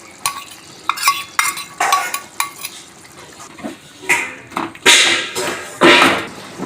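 A ready-made paste goes into a pan of fig and potato curry and is stirred in. Close, loud bursts of spatula scraping and clattering against the pan come in an irregular rhythm, with soft sizzling beneath and no talking.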